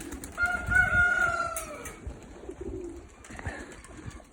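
Low cooing and soft warbling calls of pigeons, including white-flight pigeons, sound close by, in a few short bursts.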